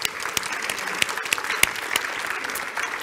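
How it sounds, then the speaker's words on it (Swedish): Brief round of applause from a studio audience welcoming Sweden's gender equality minister Maria Arnholm onto a stage, steady dense clapping throughout with no voices. "En liten applåd för Maria, tycker jag"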